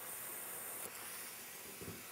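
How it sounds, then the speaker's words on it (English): Spray gun hissing onto rosin paper with pressure set too low, so it sputters rather than atomizing; a steady close broadband hiss runs throughout, with brief spurts near the middle and end. "Now I'm going to spray right here on the paper."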